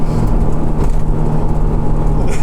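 Honda S2000 engine roars loud and close, a sustained high-revving drone pushing toward its 9,000 RPM redline, steady throughout with no voices.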